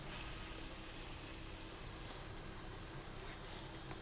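Yogurt is stirred into spiced masala frying in a pan for beef biryani, giving a dense, steady sizzle that holds evenly throughout.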